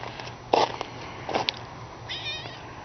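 An outdoor cat gives several short meows at close range, some brief and sharp, with quiet gaps between them and faint background noise.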